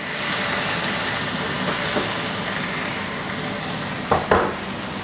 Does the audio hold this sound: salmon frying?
yes